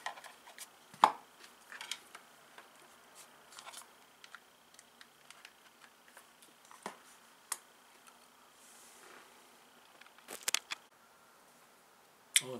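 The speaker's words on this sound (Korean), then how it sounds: "여기서 비디오 카메라 배터리를 바꿔야 될 것 같습니다" A video camera battery swapped out: faint, sparse plastic clicks and handling taps spread over a quiet stretch, with a couple of sharper snaps near the end.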